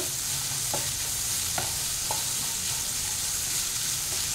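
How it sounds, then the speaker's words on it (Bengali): Capsicum stir-frying in a pan for mixed Hakka noodles: a steady, even sizzle throughout, with a few faint scrapes and taps of a spatula, close and without speech. "এবার আমি ক্যাপসিকামগুলো অ্যাড করে দিচ্ছি, দিয়ে আর একটু ফ্রাই করে নেব।"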